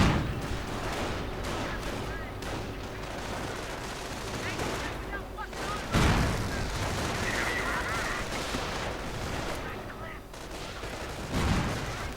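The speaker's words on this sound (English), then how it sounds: "we are seeing artillery going in counter" Artillery fire in a WWII strategy game with tank destroyers and Panzers, heard as a steady rumble of distant gunfire and booming impacts with a few louder thumps, under faint background voices.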